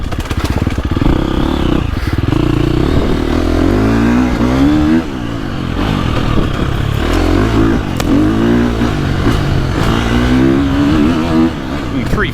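2025 KTM 350XCF dirt bike ridden on a woods loop, its engine loud and close, revving up and down through rising and falling pitch sweeps, with a voice heard briefly over the engine.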